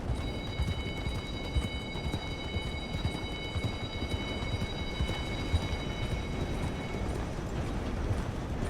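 Horse hooves in Red Dead Redemption 2 beat a steady, fast clip-clop rhythm for the whole stretch, with constant faint high tonal whine and no talk.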